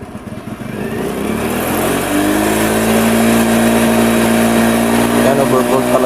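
A misfiring motorcycle engine with a faulty voltage regulator runs and revs, climbing from a rough idle to a steady higher drone, loud and close, with someone talking over it.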